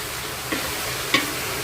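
Fried rice with capsicum and long beans is stir-fried in a pan: a constant sizzle runs underneath while two distinct spatula knocks land about half a second apart, nearby and with no talking.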